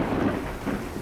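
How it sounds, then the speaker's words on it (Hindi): Heavy monsoon rain pours down in a loud, dense hiss while deep thunder rumbles and swells beneath it, a short, continuous storm sound effect without voices. "मूसलाधार वर्षा हो रही थी।"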